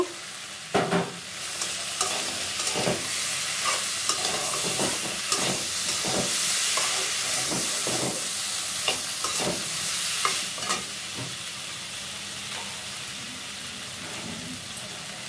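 Rui fish frying with seasonal vegetables in a pan, a steady hiss of sizzling oil broken by repeated scraping stirs of a spatula, close and fairly loud with no talk.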